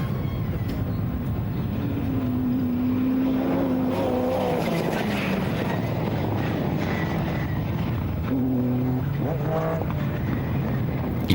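Rallycross cars including a Peugeot 306 and a Ford Fiesta ST race at Pembrey, engines droning and rising in pitch as they rev and shift, loud and continuous with overlapping passes.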